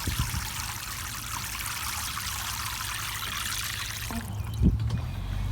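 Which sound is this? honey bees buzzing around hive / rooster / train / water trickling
water trickling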